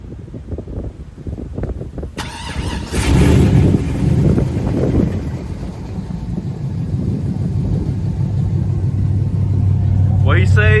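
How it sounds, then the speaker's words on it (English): A truck at a truck meet cranks up with a sudden loud burst, then settles into a steady low engine rumble, close and loud over wind buffeting, with voices around it. "Crank up the truck."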